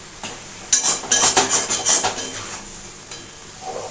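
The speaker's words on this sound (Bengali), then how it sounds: "এখন এটাকে একটু নাড়াচাড়া করতে হবে" A spoon scrapes and clatters against a pan of potato curry made with khoya, a rapid series of close metallic strokes over a faint sizzle, then quieter.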